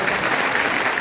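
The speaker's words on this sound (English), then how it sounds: "So big round of applause for the" Brief burst of full, dense applause from an audience at a college engineering orientation program, loud and even throughout.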